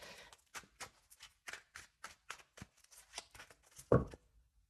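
Tarot cards shuffled by hand in a quick run of crisp riffling bursts, close and fairly quiet, ending in a sharper tap as the deck settles, with no talk.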